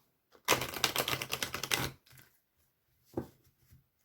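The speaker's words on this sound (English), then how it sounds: "while I'm shuffling and getting your energy into the cards" Close, rapid riffle of tarot cards being shuffled by hand in a quiet room, a dense burst of crisp flicking for about a second and a half, then a few softer taps and a short second riffle.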